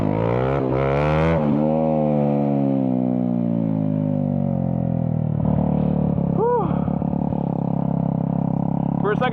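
A Honda CBR 125R motorcycle engine revs on and off the throttle, the close, buzzing note sagging in pitch, then climbing and dipping again, with a rider talking over it.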